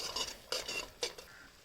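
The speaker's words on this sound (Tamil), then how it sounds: "அடிப்பிடிக்காமல் வைக்கிறதுக்கு தேங்காய் எண்ணெய் விட்டு நம்ம கிளறிட்டே இருக்கணும்" A spoon stirring and scraping jackfruit halwa cooked with coconut oil in a pan, three distinct scraping strokes spaced about half a second apart, close and fairly quiet.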